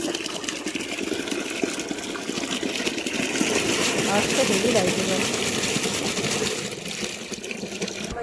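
Tap water running steadily into a basin in a home kitchen, a continuous splashing gush that swells louder midway as the basin fills, then eases back.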